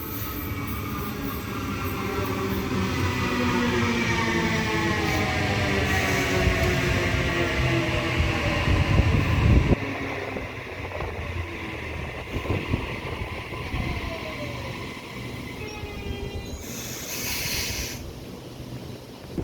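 A Waratah A set electric train pulls out of platform 2 at Denistone station, its rising motor whine and rolling rumble close at first, then easing away, with a brief hiss and squeal of wheels later on.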